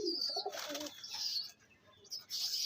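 Pigeon coos and chirps with bursts of wing flapping, close by, heard in a few short separated outbursts with quieter gaps between them.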